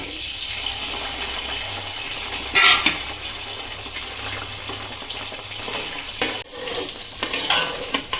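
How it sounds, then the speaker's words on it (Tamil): Green turkey berries fry in hot oil over high flame in a home kitchen, a close sizzle with repeated stirring scrapes and a louder burst of crackle partway through, no speech. "ஆயில் ஹீட் அடித்து பச்சை சுண்டைக்காவை நான் சேர்த்துக்க போகிறேன்"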